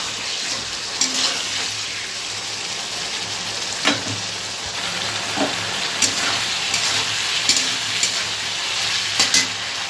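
Spice masala for a Bengali fish curry frying steadily in a pan, a continuous close sizzle with occasional sharp crackles and spatters scattered through it, no voices.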